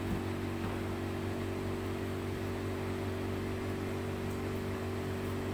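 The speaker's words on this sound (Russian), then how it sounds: "включила только что нашу машинку, потому что на ночь мы выключаем холодильники" A refrigeration unit just switched on at a workplace hums steadily with a low tonal drone and faint hiss, continuous and unchanging throughout.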